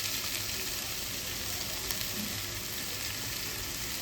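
Paneer lightly frying in hot ghee, a close, dense and even hiss of sizzling fat holding steady throughout without pause or talk.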